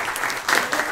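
Brief burst of audience applause for a speaker at an international blockchain and crypto conference in Paris, a dense wash of clapping from a crowd, fairly soft and uninterrupted by talk.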